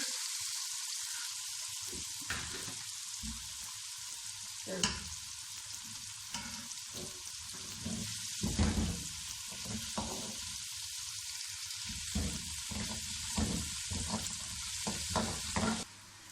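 Eggplant and potato fry in a pan with a bright, continuous sizzle, broken by stirring scrapes and bursts of spatter that rise and fall across the stretch, close and clear, with no talking.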